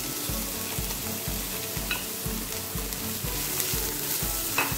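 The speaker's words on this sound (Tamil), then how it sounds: "இதையும் நல்லா வதக்கிக்கோங்க." Chopped onions sauté in a pan, a steady close sizzle broken by rhythmic scraping strokes of a spatula stirring roughly twice a second.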